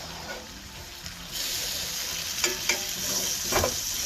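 Beef stirred with caramelizing brown sugar in a pan sizzles steadily, rising louder partway through, while a spatula scrapes and taps a few times, close and without talk.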